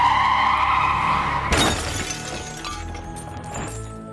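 Racing car crash: a sudden loud impact with shattering glass and scraping metal cuts off an engine whine, then debris clatters and fades.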